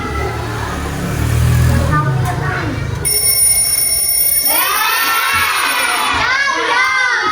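An alarm clock bell rings with a sustained, shrill, metallic tone in a classroom, preceded and overlapped by loud children's chatter and shouting.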